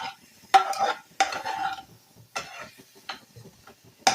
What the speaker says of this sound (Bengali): এই মশলার সঙ্গে টমেটোটাকে কিন্তু আগে একটু ভেজে নেব